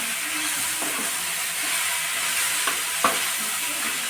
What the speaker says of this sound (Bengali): আমড়াটাকে দিয়ে ভালো করে একটু নাড়াচাড়া করে নেব।